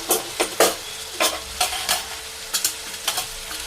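Green chillies and garlic dropped into a hot pan for tomato chutney, giving repeated bursts of sizzling and stirring scrapes in an uneven rhythm, close and fairly loud, with no talk.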